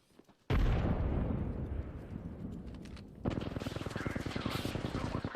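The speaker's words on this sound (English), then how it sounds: "Frag grenade sent." A frag grenade detonating in the Apex Legends shooter: a sudden heavy blast that rolls off slowly, followed a few seconds later by rapid, crackling gunfire that continues to the end.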